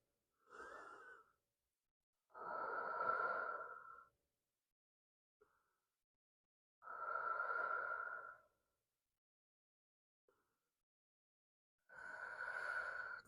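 Slow, audible breaths in yoga child's pose, forehead resting on the mat: four long, soft inhale-exhale swells separated by quiet pauses, close and calm, with no talking.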